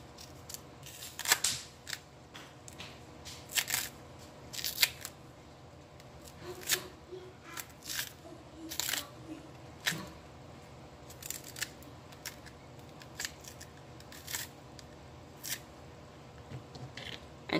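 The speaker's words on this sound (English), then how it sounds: "So we are peeling off our plantain, peeling that skin off" Green plantains are peeled by hand, with soft, scattered snaps and tearing scrapes of skin at close range against a quiet room.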